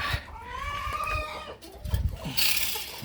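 Native cross and US silkie chickens cluck close by in a short run of soft, uneven calls, with a brighter squawk toward the end, mixed with light rustling.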